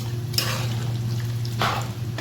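Peeled, chopped tomatoes go into about one and a half cups of hot oil for a beef karahi. The oil fries with a steady sizzle, and two short stirring scrapes can be heard, with no talking.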